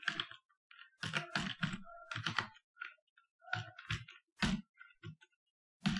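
Quiet bursts of computer keyboard typing, short clustered runs of keystrokes separated by brief pauses, close and alone without talk.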